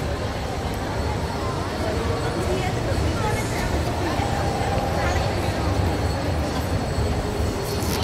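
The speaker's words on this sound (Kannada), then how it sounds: "ನೋಡಿ ಒಂದು ಟ್ರೈನ್ ಬರ್ತಿದೆ ಅಲ್ಲ," A small train pulls into a station in Malaysia with a steady, close rolling rumble and rail noise that lasts throughout, while voices murmur faintly in the background.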